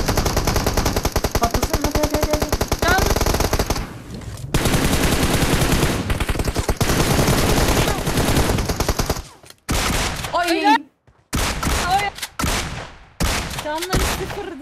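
Rapid automatic bursts from an M4 rifle in the mobile game PUBG Mobile, long sustained strings of shots followed by shorter broken bursts, loud and close.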